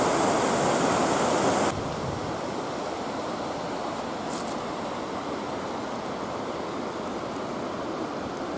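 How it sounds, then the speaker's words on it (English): A waterfall in the Wicklow mountains, heard from near its top, pours as a dense, constant rushing hiss that is louder for the first couple of seconds and then settles into a slightly softer, unbroken roar. "So I think we're at the top part now, up against the waterfall."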